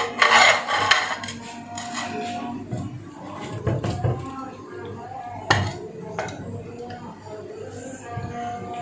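Creamy chicken is dished out of a pan with a metal spoon, bringing scraping, clinking utensil strikes and rubbing against the pan in irregular bursts, close and fairly loud, with someone speaking faintly at times.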